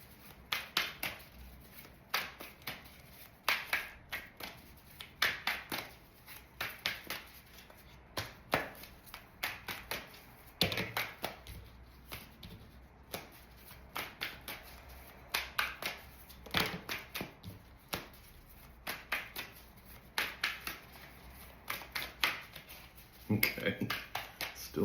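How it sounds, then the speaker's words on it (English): Tarot cards being shuffled by hand during a reading, a long series of soft, rapid riffling and tapping bursts at an irregular rhythm, close and fairly quiet, with a person talking intermittently throughout. "Okay, still shuffling."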